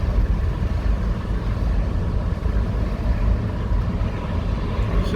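A 32-year-old truck rolls down the road, its engine drone and low road rumble steady and close throughout, with no voices.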